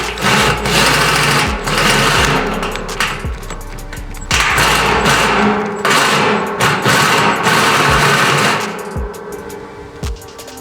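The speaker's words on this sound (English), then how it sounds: "I'm using this old drill that it's probably seen better days" Worn old cordless drill boring into a 50-gallon drum, loud, close bursts of buzzing motor whine broken by sharp clicks and brief pauses, with no talking.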